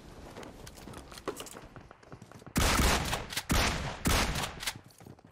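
Gunfire in PUBG Mobile during a squad battle, loud bursts of shots with heavy repeated volleys in the second half, no talking.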